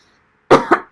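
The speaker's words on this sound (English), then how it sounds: "I don't know why I'm getting this cough while I'm talking." After a brief silence, a person coughs three times in quick succession, close and loud.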